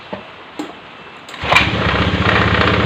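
A motorcycle engine starts and revs steadily after a few faint clicks, running loud and close with a continuous throbbing rumble; the bike's electrical system is overloaded with too many aftermarket accessories.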